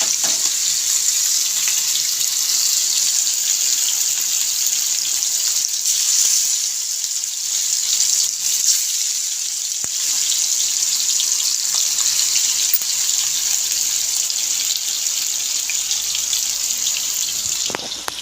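Large fish fry in plenty of hot oil, giving a loud, steady, close hiss that runs unbroken throughout with no talking.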